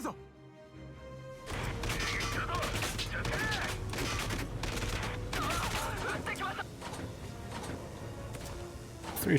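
Dense, sustained gunfire from the video game Valkyria Chronicles 4, rapid loud shots and metallic mechanical clatter rolling continuously for several seconds after a quiet start, with someone talking over it.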